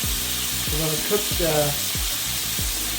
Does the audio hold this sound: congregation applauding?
no